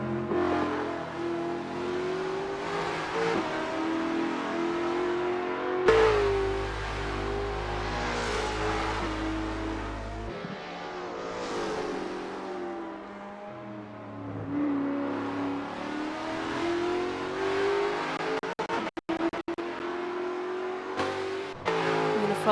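Race cars in an ATCM championship race at Symmons Plains roar around the track, engines revving up and down through gear changes as cars pass close by, loud and continuous with no talk.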